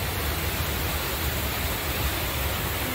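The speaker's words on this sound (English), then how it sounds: "Oh, it is a waterfall!" Massive waterfall in the Olympic National Park rainforest, a broad steady roar of rushing water with no pauses, filling the scene loudly.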